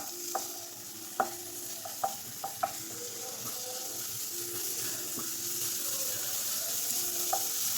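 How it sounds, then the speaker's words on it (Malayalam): Spinach and potato thoran with tomato being stirred in a pan, giving soft scraping strokes and a few sharp taps of the spoon over a low steady sizzle, with no talking. "എല്ലാം കൂടി ഇട്ട് കൊടുത്ത് ഒന്ന് ഇളക്കി കൊടുക്കാം"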